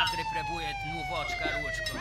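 Police car siren in the video game Contraband Police, a wailing rising-and-falling tone heard close and steady for a couple of seconds, partly under a man's speech.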